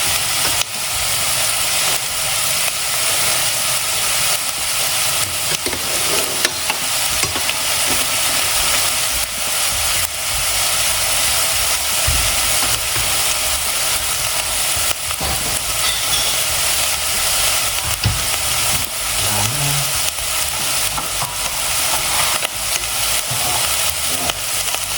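Gnocchi frying in a pan and being stirred, giving a steady broadband sizzle and hiss that runs without a break, with occasional soft scraping bumps from the stirring.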